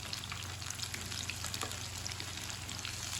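Tikkis fry in oil in a pan on a medium flame, giving a steady, close, continuous sizzle with fine crackling pops and no one talking.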